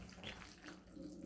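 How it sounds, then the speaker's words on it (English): Hands being washed under a running kitchen tap while making chicken salad, a steady close stream of water splashing for a brief moment with no talk. "we usually wash my hands here real quick"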